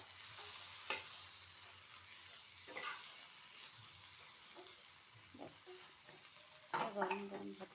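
Okra frying in a pan with a soft constant sizzle, broken by occasional scraping stirs and a louder clatter of utensil on pan near the end, close and without speech.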